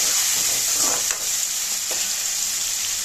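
Tomatoes, garlic and curry leaves sautéing in hot oil for a dried-fish (karuvadu) thokku, giving a steady close sizzle with a couple of brief stirring scrapes, no voices.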